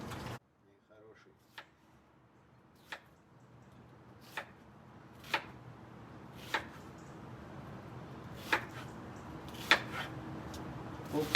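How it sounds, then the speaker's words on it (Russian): Onion being chopped finely with a knife on a board for Georgian satsivi, a steady series of sharp, evenly spaced cuts that grow slightly louder and quicker, heard close up with no talking. "Лук мелко нарезаем"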